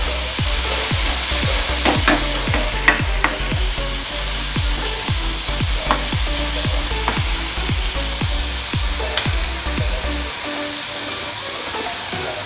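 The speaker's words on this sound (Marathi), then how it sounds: "चांगलं परतून घ्यायचं।" Ingredients for dal tadka sauté in oil in a pan, a steady loud sizzle broken by frequent rhythmic scrapes of a spoon stirring, close up and with no talking.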